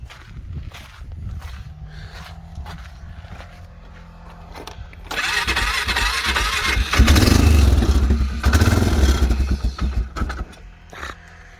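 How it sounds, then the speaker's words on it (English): An old quad ATV, cold after sitting too long, cranks a few times, then catches and revs roughly, its engine note rising loud and close before settling into an uneven idle. "spark up the old quad here and move it so I can haul some more stuff."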